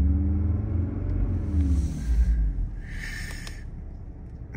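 An Audi RS3 engine gives a deep, close rumble with a short rev that falls back toward idle, followed by breathy hissing bursts over a steady low drone.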